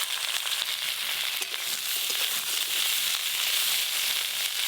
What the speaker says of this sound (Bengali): আর একটু তেল দেব, ফোড়নে 5 ফোড়ন দেব, কেটে ধুয়ে রাখা ভেন্ডিগুলো দিয়ে দেব।